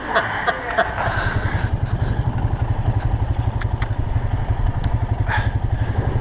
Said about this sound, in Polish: Nagraj te skutery.